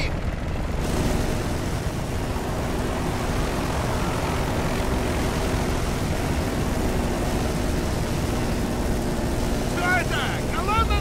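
A helicopter in the video game Battlefield Bad Company 2 drones steadily as a loud, continuous rotor-and-engine roar that fills the whole stretch, with faint game noise and brief chirps near the end.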